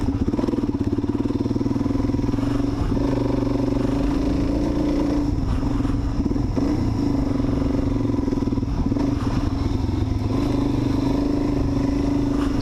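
A Suzuki DRZ400 motorcycle engine drones and revs steadily while riding trails, loud and close throughout with constant rumbling clatter.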